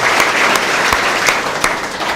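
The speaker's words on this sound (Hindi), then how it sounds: "मैं चाहता हूं कि जोरदार तालियों से उनका अभिनंदन करें।" An audience at a Hindi poetry recital (kavi sammelan) in Mumbai claps warmly, a dense and continuous burst of applause with a few sharper individual claps standing out and no one talking.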